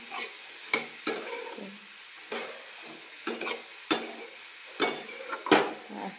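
Ridge gourd is stirred into masala in a pan, a series of sharp spoon scrapes and clanks against the metal at irregular intervals over a soft background sizzle, close and clear.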